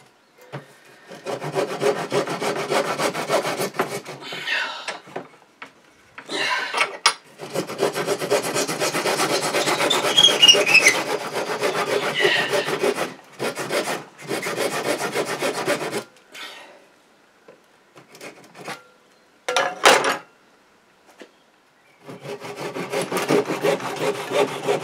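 Wooden club or cudgel being smoothed by hand rubbing, a steady rasping scrape in long repeated strokes with short pauses between bursts, close and fairly loud with no talk.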